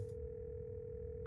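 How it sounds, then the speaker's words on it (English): Telephone dial tone in the horror game Scarlet Hollow, a steady faint continuous tone held throughout, with a brief higher beep right at the end. "You can hear something drop violently on the other end, and then the dial tone."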